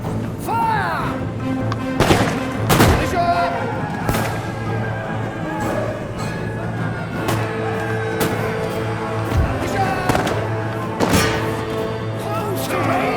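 Musket volleys crack through a battle in Empire Total War near the Jamestown colony, several sharp shots landing at irregular intervals over a steady rumbling din of combat.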